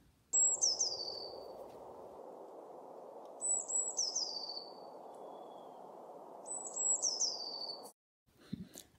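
Eurasian blue tit singing: three clear high phrases, each a few sharp notes followed by a descending trill, spaced evenly over steady low background hiss.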